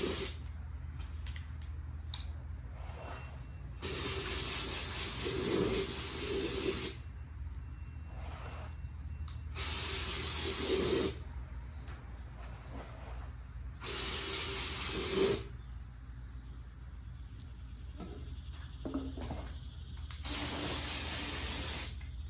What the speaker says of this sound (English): I'm just going to spray this inside and out with a good coat of this paint